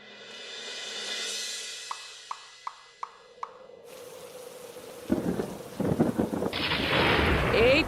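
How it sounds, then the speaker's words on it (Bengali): A thunderstorm builds from a low swelling rumble and a few sharp clicks into a rush of heavy rain with rolling thunder, growing louder toward the end, with no talking. "এই তো ঝড় বৃষ্টি শুরু হয়ে গেল"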